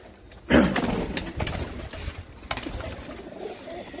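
Close, throaty cooing from teddy pigeons starts abruptly and continues in soft repeated bursts, with faint background noise.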